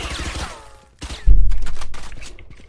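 Gunfire from a gun in the Valorant video game: a rapid burst of loud, close shots around the middle of the clip, preceded by game sounds and brief talk.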